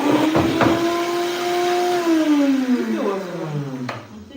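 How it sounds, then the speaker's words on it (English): A kitchen blender whirs steadily at close range with a shifting motor pitch, running alone without speech. "So this is my blender. I'm just going to use this blender now too."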